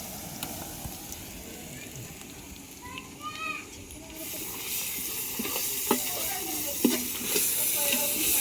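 Ginger garlic paste sizzling in a hot pan for chicken biryani, cooked outdoors in front of a house: a steady hiss that grows louder and denser midway, with occasional stirring scrapes and a voice speaking briefly.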